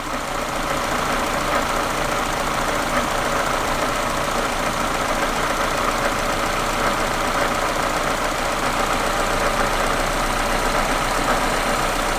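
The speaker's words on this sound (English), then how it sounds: "So anti-clockwise kind of raised the revs up." A Mazda MX-5 NA6 with a rough idle runs steadily and close by for the whole stretch, a continuous uneven engine drone with a knocking undertone after its revs have been nudged up. No one speaks.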